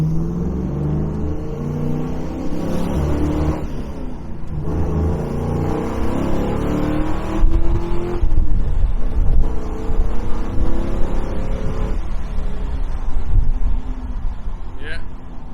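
A 1973 Chevrolet Camaro RS Z28 accelerates hard, its engine revving and rising in pitch through several surges, loud and close, with road and wind noise underneath.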